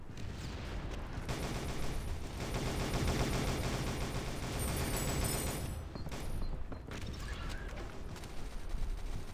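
Gunfire in the shooter game SGDZ rattles in rapid automatic bursts, loud and continuous. A sharper, denser flurry comes near the end, with almost no voice over it.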